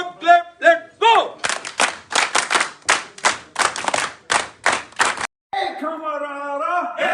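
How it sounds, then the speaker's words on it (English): A group of scouts at a Scout leadership training camp in Jungle Mangal, Mansehra, performs the Scout clap: about a dozen sharp, unison claps in a quick driving rhythm. Chanted group voices come just before and sung voices just after. "Scout clap, let go."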